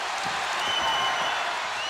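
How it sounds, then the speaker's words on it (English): Arena crowd at a 1991 NBA Western Conference Finals game between the Lakers and Trail Blazers in Portland, a steady loud roar of cheering and clapping filling the whole stretch without letting up. "Crowd on its feet as Magic backs in on Drexler."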